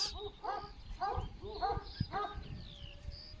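Several dogs bark repeatedly in the distance in a rural village, a rhythmic chorus of yaps with faint bird calls and rural background noise.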